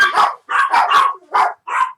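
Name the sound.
dogs barking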